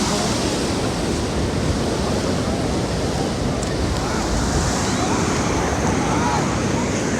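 Ocean waves washing in with the rising tide at Golden Beach, Puri, a dense continuous roar of surf, loud and close, mixed with wind buffeting the microphone.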